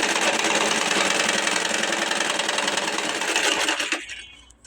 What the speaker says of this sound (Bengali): কাঁধগুলো সেলাই নিই। কাজ সেলিয়ে নিচ্ছি।